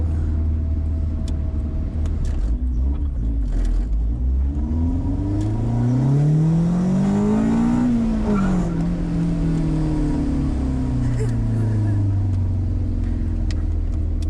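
A restored Honda CRX with a B16 engine drives along, heard from inside as a steady low engine drone and road rumble, with the revs climbing and then easing through a gear change, and brief voices in the cabin.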